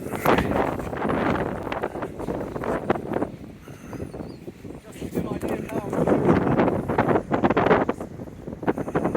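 Breezy outdoor wind while a canoe sail is rigged: rough, gusting wind buffets the microphone loudly throughout, rising and falling in waves, with a voice talking intermittently beneath it.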